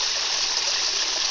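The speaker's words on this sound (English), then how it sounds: "trickling" Natural spring water trickling outdoors near Hiawassee, Georgia, a steady close, continuous splashing flow with no other sounds.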